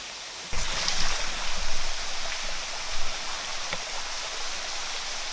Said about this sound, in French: Je viens de tomber sur une cascade.